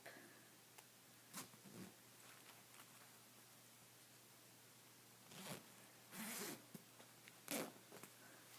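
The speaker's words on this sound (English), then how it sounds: "And then zip it up." A zipper is pulled up on a quadsuit fursuit, heard as quiet scattered zips and rustles of fabric over a low steady hum, with louder zipping bursts toward the end.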